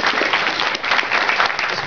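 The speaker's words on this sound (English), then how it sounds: "Let's have a round of applause" Dense, steady applause from a convention audience at a furry fan event, sustained and fairly loud throughout with no break.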